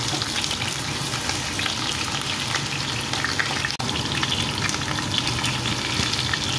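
Potatoes fry in hot mustard oil in a wok over medium heat, a steady dense sizzle holding at close range for the whole stretch, with one brief dip partway through and no talking.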